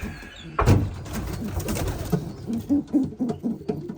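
Racing pigeons coo at a nest in a loft, low throaty rolling calls repeated close by, with a clattering knock near the start and a quieter rustle in between.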